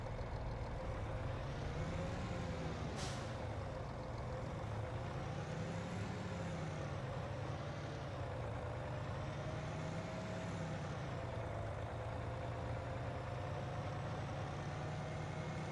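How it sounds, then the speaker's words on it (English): A truck passing at a distance, faint engine drone with slow rising and falling tonal sweeps and air brake hiss, and a brief sharp burst partway through, steady and low throughout. "Truck."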